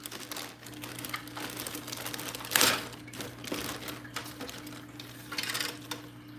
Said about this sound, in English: I'm opening the bag